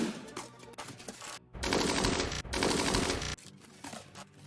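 Modded turrets in the video game Rimworld fire loud, dense automatic bursts, a sustained roaring stretch in the middle set off by sharper scattered shots before and after, with no talking.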